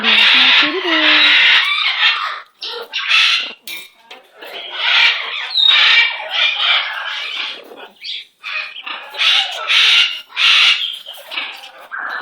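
A pet bird squawks loudly and harshly in repeated bursts throughout, close by, with a person's voice heard briefly near the start.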